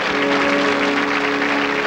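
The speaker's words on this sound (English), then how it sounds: "Give them a good round of applause, folks." Steady, dense applause from a studio audience for contestants on a 1984 British game show, loud and continuous throughout without a break.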